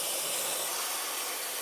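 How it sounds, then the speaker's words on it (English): The steam wand of a Meraki espresso machine lets out a loud, steady, broad hiss that runs unbroken and close by, with no voices over it. "If you check out the steam, so check out the steam here,"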